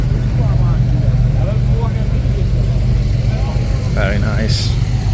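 A Porsche Speedster's engine idles on the 1000 Miglia starting grid, a low steady rumble with other cars nearby while people talk over it.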